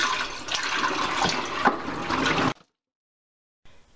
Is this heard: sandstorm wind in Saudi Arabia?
no